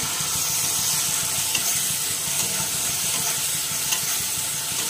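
A ground paste of onion, garlic and ginger fries in a pan with a constant, dense sizzle close by, along with occasional stirring scrapes and pops, and no voices.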